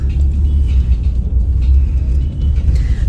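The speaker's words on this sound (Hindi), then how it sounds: "होटल से टैक्सी मंगाई है और अब हम एयरपोर्ट जा रहे हैं" Taxi ride from a hotel to the airport in Hanoi, with a steady, loud low rumble of the car's engine and road noise heard from inside the cabin, no talking.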